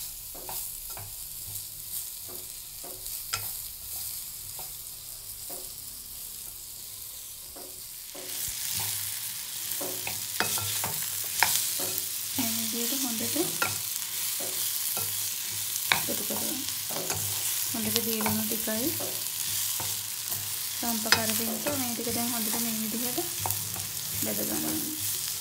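Onions fry in a pan while being stirred for a jackfruit seed stir-fry, a continuous close sizzle growing louder partway through, punctuated by repeated scraping stirs.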